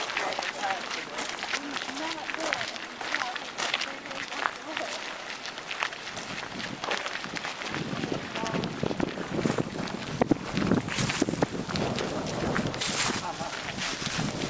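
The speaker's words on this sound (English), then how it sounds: "A little windy out here" Gusty wind blowing outdoors at High Bridge in a Virginia park in November, buffeting the microphone in rough, uneven rushes, with people talking and some footsteps mixed in.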